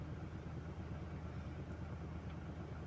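Engine of a 2021 Ford Ranger Raptor running with a shaky start, giving a faint, steady low rumble that holds evenly at a distance without breaks.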